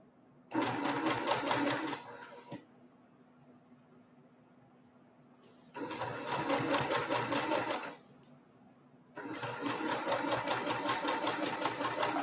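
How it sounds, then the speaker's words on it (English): Sewing machine stitching a summer sampler quilt block in three bursts of steady, close whirring, separated by quieter pauses with a low background hum. "I'm gonna leave that up here so you can see it while I'm sewing."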